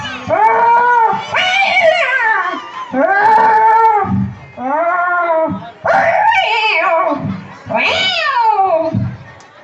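Voices imitate a cat fight with loud, overlapping yowls and caterwauling screeches in several long bursts, close and intense, at a Pongal celebration.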